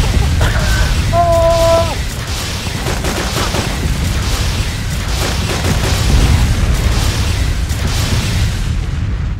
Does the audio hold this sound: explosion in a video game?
yes